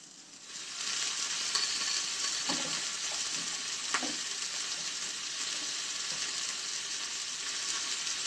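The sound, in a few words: vegetables added to cooking pork in a pan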